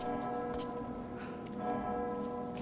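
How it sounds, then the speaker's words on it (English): Bells ring repeatedly in Rise of the Tomb Raider, with resonant sustained tones and periodic strikes layered over a quiet game ambience and no talking. "These bells keep going off."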